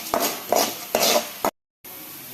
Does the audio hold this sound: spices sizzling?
yes